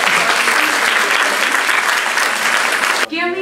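Loud, dense applause from an audience honouring a guest resource person at a college event, sustained steadily for about three seconds before cutting off abruptly into a brief trailing voice.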